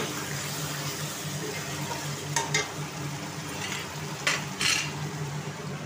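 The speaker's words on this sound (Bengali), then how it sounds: "আলুগুলো দিয়ে আর একটু কষিয়ে নেব ভালো করে" Chicken and fried potatoes being stir-fried in a pan, steady sizzling with occasional scraping stirs from a spatula, close and continuous.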